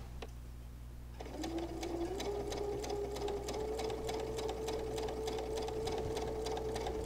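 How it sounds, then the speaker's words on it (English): Sewing machine chain stitching quilt pieces, starting after a brief pause and then running steadily with a fast, even needle ticking over a motor hum, close and clear with no talking. "Now we're going to stitch these as we did previously, and you can do the chain stitching on them also."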